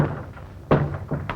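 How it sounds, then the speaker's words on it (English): A door swings shut with a single solid thud partway through, heard faintly amid room noise with a softer knock just after, in an early 1930s western film scene. "Close the door, Butch."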